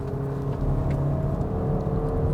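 A 2021 Hyundai Tucson 1.6 turbo pulls hard in third gear up a highway on-ramp, a steady loud engine drone with a rising tone filling the cabin throughout, no pauses.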